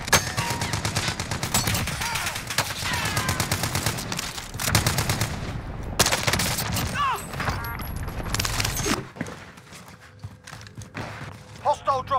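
Automatic gunfire in Call of Duty Cold War, rapid dense bursts of shots for most of the span, then a quieter stretch with scattered shots near the end, with game voice lines and talk mixed in.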